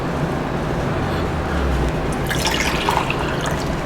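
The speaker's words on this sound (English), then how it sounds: "So I'm going to start off with some water." Water being poured into a container for mixing a sodium hydroxide solution: a steady, loud hiss of running liquid throughout, rising into brighter splashing toward the end.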